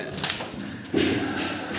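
Pigeons in a home coop, including roller, Madrasi and green old-line birds, give soft cooing calls with a brief flutter of wings, close and fairly quiet.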